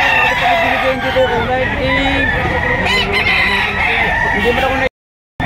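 Several roosters crowing at a busy Lipa, Batangas animal market, overlapping loud calls close by amid crowd chatter and people talking, ending abruptly.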